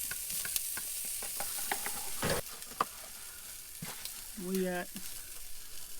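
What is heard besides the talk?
sausage frying while cooking dinner at camp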